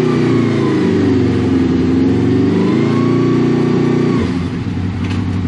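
Honda VFR800 VTEC motorcycle engine revved to about 4,000 RPM, a loud close steady mid-pitched drone that rises and settles, then drops away near the end.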